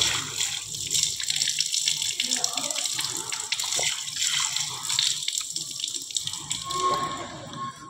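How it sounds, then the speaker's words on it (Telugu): Spring water running from pipes at a temple where devotees drink, a continuous splashing flow like a tap pouring, close by, with faint voices in the background. "ఇక్కడ వేస్ట్గా వాటర్ పోతుందని ఇక్కడ ఇలా పైపుల ద్వారా ఈ నీళ్లు తాగుతున్నారు భక్తులు."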